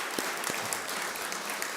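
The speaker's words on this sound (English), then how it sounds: "So I want to give each and every one of you a big round of applause." An audience claps steadily through a short stretch of applause, a dense, even wash of hands with a few sharper claps near the start.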